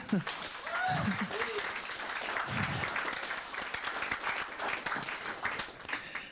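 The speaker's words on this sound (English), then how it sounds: "we can have a big applause for the hub launching" Conference audience applauds a hub launch with sustained, even clapping, while voices briefly talk over it near the start.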